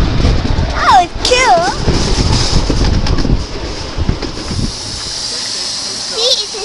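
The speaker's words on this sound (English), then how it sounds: "See, it's a steam train." A steam train at the Derwen Fawr Steam Railway hisses steadily throughout, with squeaky whistle-like tones near the start and end and people talking over it.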